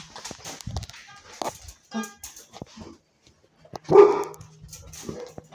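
A pet dog barks repeatedly in short, uneven bursts, one louder close bark near the end, with some speech mixed in among the barks.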